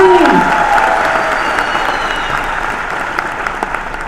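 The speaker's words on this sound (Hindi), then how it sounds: "तो भाई हमारे कलाकारों के लिए जरा जोरदार तालियां होनी चाहिए।" A theater audience gives loud applause for the performers, with crowd noise under the clapping. The applause is strongest at the start and fades slowly over a few seconds.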